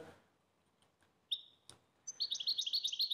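Birds chirp high and clear: a couple of brief tweets, then a steady run of rapid, trilling calls, fairly close and without talk.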